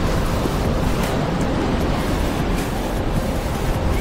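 Surf rolls onto Playa Caribe on Isla de Margarita, a steady, close, loud wash of waves mixed with wind buffeting the microphone, with no voices.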